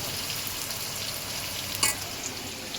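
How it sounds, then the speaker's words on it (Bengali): Bananas fry in a pan with a constant, close sizzling hiss. A brief sharp scrape or clink from stirring cuts in near the middle. Nobody speaks over it. "আর ওইদিকে কলা ভাজা হচ্ছে।"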